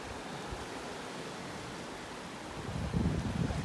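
A river rushes beside a Rocky Mountains hiking trail near Triple Falls, making a steady, full, close roar that swells slightly near the end.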